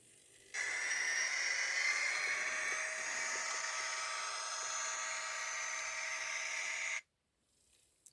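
Small electric motor of an Atlas CSX GP40 model locomotive with a sound decoder whines steadily for several seconds at close range, a high sustained tone with no talking, then cuts off abruptly into quiet.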